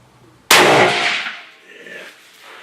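A single loud, sharp rifle shot cracks out nearby at an outdoor range during sighting-in, followed by a ringing, decaying echo that fades over a couple of seconds.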